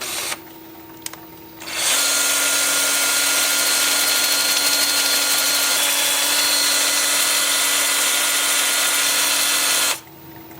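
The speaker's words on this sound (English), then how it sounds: "I'm going to switch to 180 grit 2-inch sanding disc, and I'll sand this area and this area with that." A small power sander with a 180 grit 2-inch disc runs against a mulberry live edge bowl, a loud steady whine holding for about eight seconds after a brief quieter start, then cutting off.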